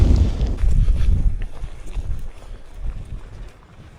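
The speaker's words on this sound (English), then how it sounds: "Just the sound of boots on wet ground and the wind moving through the ridge." Wind gusts through a mountain ridge on the Isle of Skye in wet weather, a loud rumbling buffet close to the microphone that eases off toward the end.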